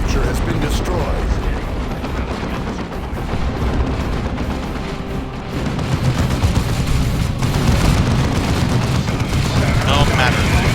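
Battle in Dawn of War 2 Retribution, a Warhammer 40k strategy game: a dense, continuous roar of explosions, booms and gunfire that stays loud throughout, with voices mixed in.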